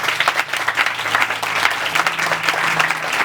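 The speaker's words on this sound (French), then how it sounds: "demandez-nous pour nous applaudir très très fort" Loud audience applause with pulsing, uneven clapping that holds steady throughout, and a low hum running underneath.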